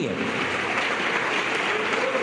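A church congregation applauding together, a steady wash of clapping from many hands filling the room without a break.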